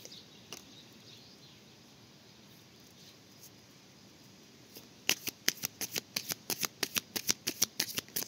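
Tarot cards are shuffled up close, starting after a quiet stretch of room tone with a rapid series of crisp riffling snaps that continue to the end.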